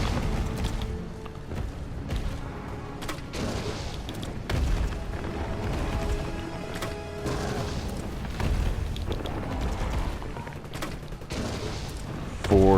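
Grenade rounds fire and burst in the Resident Evil 3 video game, a dense run of booms and blasts over continuous game music and effects, loud throughout.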